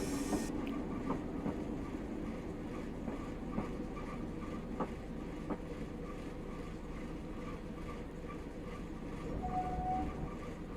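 Class 111 diesel multiple unit train in Train Simulator Classic, running between Bishop Auckland and Middlesbrough: a steady low rumble of the engine and wheels rolls on throughout, with occasional faint clicks and a brief tonal whine near the end.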